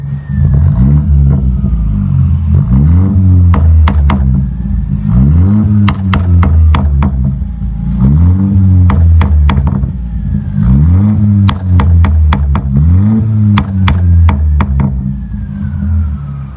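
A remapped Mercedes A180 AMG Line with the backbox deleted, in sports mode, revs repeatedly in rising and falling bursts, each followed by sharp crackling pops and bangs from the exhaust, loud and close, with no one speaking.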